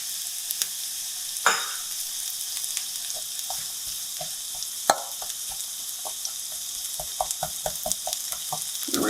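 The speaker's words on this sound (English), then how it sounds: "Cook up our onions a bit." Onions frying in melted bacon grease in a pan, a steady close hiss with scattered crackles and pops and a few louder spoon scrapes or clatters, no talking.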